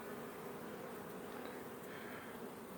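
Honeybees buzzing at a hive, a steady, faint, continuous drone of many wings close by with no voices.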